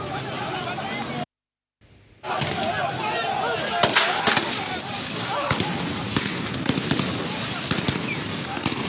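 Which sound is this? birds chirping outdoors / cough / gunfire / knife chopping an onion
gunfire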